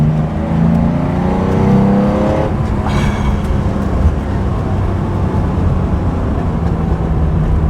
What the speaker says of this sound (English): You accelerate, the revs kick in and it just starts going